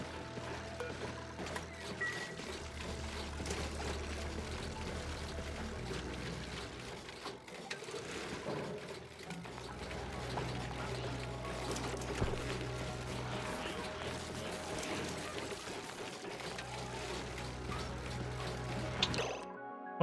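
Water pours steadily in the video game Stone to Space, a continuous watery rush that runs beneath looping background music throughout.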